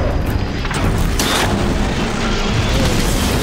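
Heavy booming explosions from missile shots in the action game Horizon Zero Dawn, loud blasts with crackling debris amid continuous combat noise.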